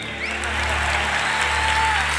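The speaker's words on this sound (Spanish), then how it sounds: "Aplauso para la pareja de hermanos bailarines. Aplausos para nuestro amigo gimnasta por llamarle." A live arena crowd applauds dancers and a gymnast, a dense wash of clapping that holds steady at a fairly loud level.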